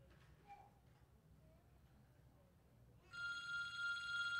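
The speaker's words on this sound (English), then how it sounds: "Oh my, is that my phone?" A telephone bell starts ringing partway through, with a steady bright electric ring rising over a quiet room during a stage Christmas musical performance.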